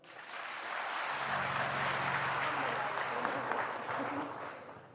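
A temple gathering audience claps together in a steady, dense wash of applause that swells and holds for several seconds before tapering off, with some murmuring voices mixed in.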